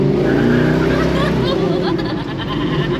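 A big block Chevrolet Nova spins its tires, and a loud, rough V8 roar with rising harmonics mixes with tire noise for a few seconds. Voices can be heard in the background.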